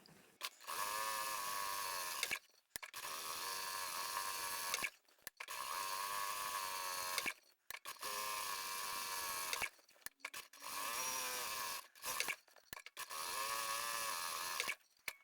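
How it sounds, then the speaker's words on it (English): A sewing machine stitching down the long edges of webbing strips for a scrap-fabric tote bag, running in six sustained bursts of fast, even whirring separated by short pauses, close and steady with no talk. "What I'm going to do now is sew down the long edges of each of these webbing pieces"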